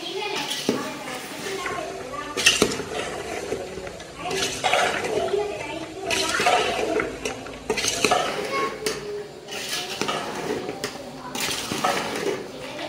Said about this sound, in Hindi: तब इसको मिक्स करेंगे।